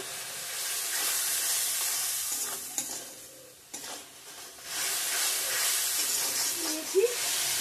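Cumin and coriander powder sautéing in a pan with a splash of water for a paneer, potato and pointed gourd curry, a steady hiss and sizzle broken by stirring scrapes and brief clatters.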